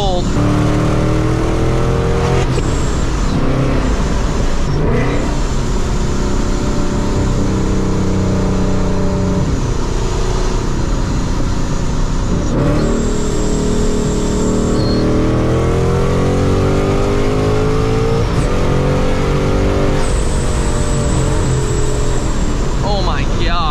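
A 700-horsepower Ford Mustang driving hard on a highway with the windows down, its engine droning and rising steadily throughout at close range, with wind and road noise.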